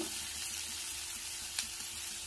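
Tomato, onion, green chilli and sweet corn frying in a pan, a steady close sizzle with a faint clink near the end and no talk.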